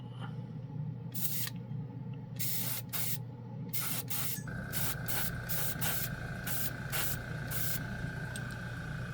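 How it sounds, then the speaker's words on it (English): A Kaizo airbrush sprays chrome paint in short and longer bursts of close, bright hissing, separated by pauses, over a constant low hum from a compressor. "I put it in the no clean Kaizo airbrush."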